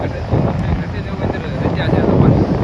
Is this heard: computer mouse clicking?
no